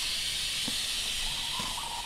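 An espresso machine's steam wand steams milk with a continuous, sharp hiss held close and steady, broken by a few faint gurgles and no talking.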